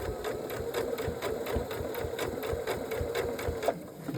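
A new sewing machine, not a Singer, stitches a round jelly roll rug, its needle thumping in a fast, steady rhythm of evenly spaced beats, close and continuous, with no talking over it.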